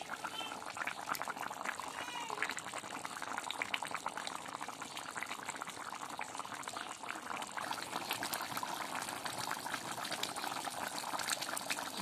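Chicken bhuna curry simmers steadily in a pot, giving a continuous soft bubbling and sizzling hiss with no talk over it.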